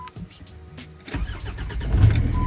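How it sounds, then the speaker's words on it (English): An old Jeep engine cranks and catches near the microphone, a brief starter whir followed by a louder rumbling idle that builds over the last second. "I'm going now to turn the car on because I have this old Jeep."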